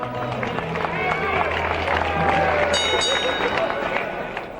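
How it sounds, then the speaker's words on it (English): A crowd cheers and claps continuously at a boxing event as heavyweight boxers are introduced, with an announcer's voice and the hubbub of a large indoor audience around it. "Let's hear it for that big heavyweight, Roby Harris."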